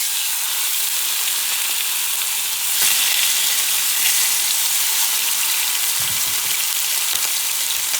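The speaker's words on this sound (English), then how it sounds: "I'm going to put some extra virgin olive oil. And I'm going to put the pork chops." Pork chops sizzle steadily in hot extra virgin olive oil, a loud, continuous broadband frying hiss that holds for the whole stretch with a brief surge partway through and no talking.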